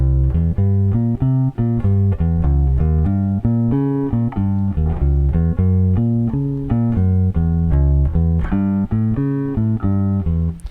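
Low, plucked bass guitar notes run in a steady, flowing diminished seventh arpeggio pattern that climbs and shifts, played alone and fairly loud with no voices.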